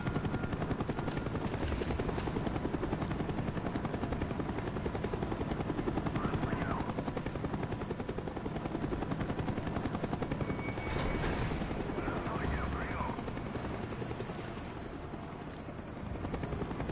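A helicopter's rotor thumps steadily throughout in Call of Duty: Black Ops, loud and continuous, with faint game sounds on top and no talking.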